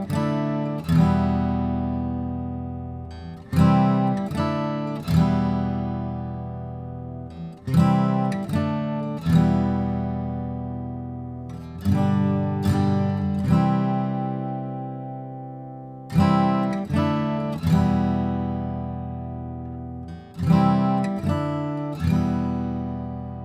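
An acoustic guitar plays the main chord progression of a song without a capo, sounding clean, strummed chords that ring out and decay one after another in a slow, steady pattern, alone.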